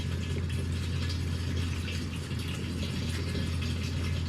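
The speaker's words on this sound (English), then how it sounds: "We're going to go ahead and let that drain." Engine oil drains from the 2.0 TFSI engine of a Volkswagen Atlas during an oil change, a steady, faint pouring hiss that runs unbroken with no talk.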